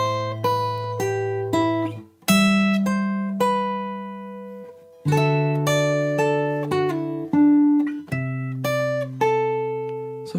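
Clean guitar picks out the next line of a Minecraft tune, a steady run of plucked notes and ringing dyads that sustain and fade, up close and alone with no voices.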